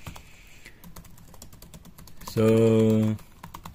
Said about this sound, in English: let me just show you that the keyboard is working